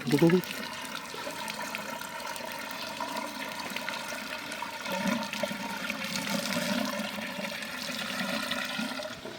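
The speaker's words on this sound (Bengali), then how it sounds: "জল দিতে হবে মেশিনের ভেতরে" Water gushing and churning inside a water pump machine used for irrigating crops, a steady rushing, trickling wash that swells midway and continues throughout at moderate distance.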